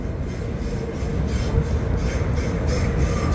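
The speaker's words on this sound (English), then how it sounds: "And here comes another F train." An NYC subway F train pulls into West 8 St station with a loud, continuous rumble and clatter of wheels on rails that swells slightly as it nears, with no voices.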